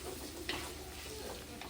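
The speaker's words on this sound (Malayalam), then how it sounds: "ഇനി അത് ചേർത്തിട്ട് നന്നായിട്ട് വഴറ്റുക" Onions sauté in a pan for a Kerala-style spicy beef roast, a faint, steady sizzle with a soft scrape or two of stirring.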